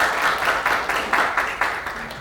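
A forum audience at a 2022 medical products event claps to welcome a speaker, a moderate round of applause with distinct individual claps, fairly close and slowly tapering.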